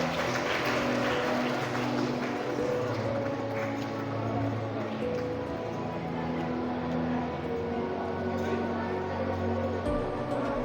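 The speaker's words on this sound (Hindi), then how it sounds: "जोरदार तालियां हो जाए एक बार प्लीज" Clapping from a crowd at a school prize distribution ceremony, a steady patter of many hands heard under a live room hum with voices and murmurs mixed in.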